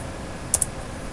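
A command typed on a computer keyboard: two quick, crisp key clicks close together, near and clear against a quiet background hiss.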